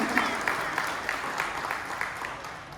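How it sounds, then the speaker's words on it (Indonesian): An audience at a community gathering with the Persis organisation in Johar Baru, Central Jakarta, applauds steadily, a soft, fairly distant wash of many hands that slowly fades over a few seconds. "Tepuk tangan."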